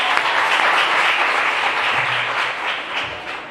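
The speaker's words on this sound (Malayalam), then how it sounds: "very good, കൈയടിച്ചേ" Audience applause at an anti-drug awareness class for students, dense steady clapping from a crowded hall that fills the whole stretch and tapers slightly toward the end.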